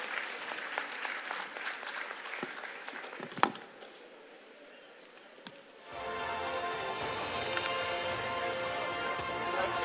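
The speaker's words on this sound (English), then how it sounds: "Please give them a round of applause." Audience applause for panelists at a bank's annual meetings in a conference hall: scattered claps at first, then a dense, sustained round of clapping from a large crowd, moderately distant.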